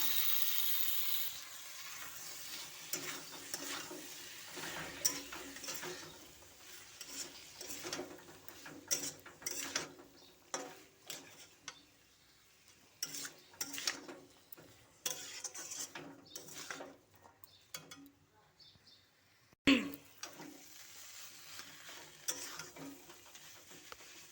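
Ghugni masala with boiled potatoes and peas being sautéed and stirred in a pan: an irregular run of close scraping, clattering spoon strokes over a low sizzle, with a sharp knock near the end and no talking.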